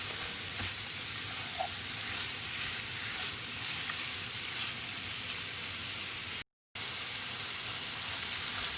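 Chili bubbling and sizzling in a big pot with vegetables, a steady close hiss of frying that runs evenly throughout with a brief dropout near the end and no talking.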